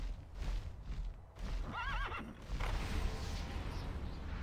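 A pegasus mount in the video game Tera neighs, a single wavering whinny rising out of a busy game soundscape, with soft hoof-like thuds and ambient rumble around it.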